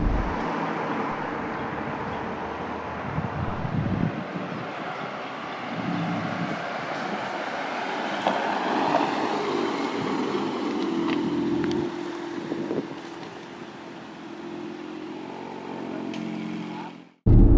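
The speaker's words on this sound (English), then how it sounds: "I like the sound of the engine in sport." A Porsche Panamera e-hybrid in sport mode accelerates, its engine and exhaust a steady, loud drone mixed with road and wind noise from inside the cabin, fading slightly toward the end.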